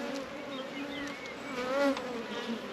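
Buckfast honey bees buzz steadily inside an open hive, a soft, close droning hum with individual bees passing near.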